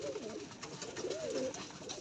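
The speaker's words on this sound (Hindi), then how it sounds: "ये हमारे कबूतर सारे यहाँ ही पानी पीने आइए" Several pigeons coo in soft, rolling phrases close by, a steady low warbling with no voices, at a spot where they gather to drink water.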